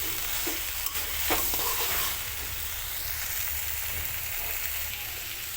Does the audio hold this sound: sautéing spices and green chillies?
yes